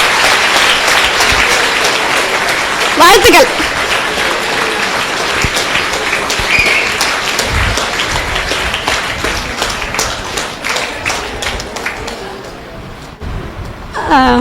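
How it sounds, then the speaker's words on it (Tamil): An audience applauds for a schoolgirl who has just recited all 1330 Thirukkural couplets, with dense, sustained clapping that fills the room and slowly tapers, while a voice speaks briefly over it. "சிறப்பான கைத்தட்டல் கொடுக்கலாம்."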